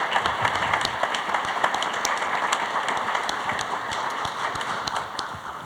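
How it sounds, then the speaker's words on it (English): Audience at a technology commercialization showcase applauds the panel, a steady patter of many hands clapping at moderate loudness, with a few sharper claps standing out. "How about a round of applause?"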